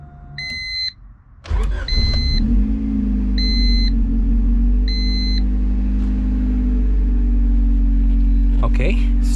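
Engine of a junkyard-rescued Honda CRX idling steadily after a start, a low continuous rumble preceded by a few electronic dash beeps and a brief crank, with a nearby voice.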